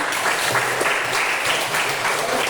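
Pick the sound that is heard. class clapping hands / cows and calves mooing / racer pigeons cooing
class clapping hands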